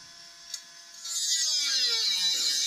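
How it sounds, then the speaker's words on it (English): A small angle grinder cuts scrap steel hollow section, a steady high-pitched whine that swells louder after the first second and holds, close by and alone. "Just cut everything up to size with the smallest grinder in the world."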